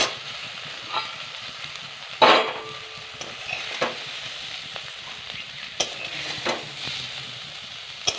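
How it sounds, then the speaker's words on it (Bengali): Bhetki fish frying in hot oil, a steady soft sizzle with occasional louder spatters and the clatter of a utensil turning the pieces, heard up close with no voices. "এটা ভালো করে ভেজে নিয়েছি এবার এটা উঠিয়ে নেবো"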